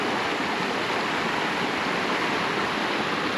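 A waterfall feeds a rocky stream with a constant, full roar of falling water. The sound is near, loud and unbroken for a few seconds, and no one speaks.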